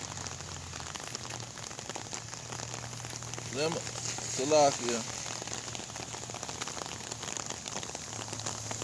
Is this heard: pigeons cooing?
no